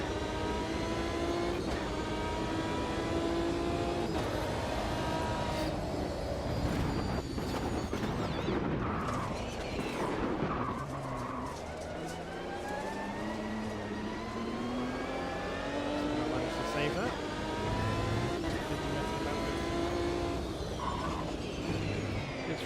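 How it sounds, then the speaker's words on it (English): An Aston Martin race car in a racing video game drones continuously at moderate loudness, its engine rising and falling through gear shifts and revs over a long stretch with no talk. "this Aston Martin still isn't stopping"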